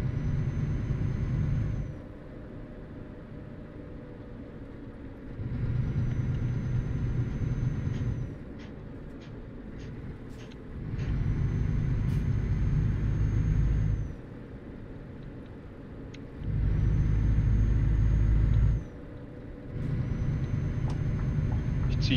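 A truck in Euro Truck Simulator rolls through the city of Bern, its engine drone rising and falling in long, loud stretches, with brief clicks and air hiss between the pulls.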